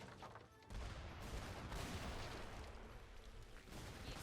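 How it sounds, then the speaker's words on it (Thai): Cannon and gunfire erupt in an Age of Empires III battle, a dense continuous barrage of overlapping booms and bursts that swells after a brief lull, with no voices over it. "ศัตรูก็จะเอาปืนมาทำลายปืนใหญ่ของเรานะ"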